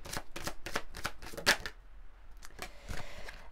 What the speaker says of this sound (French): Allez, on va prendre une carte.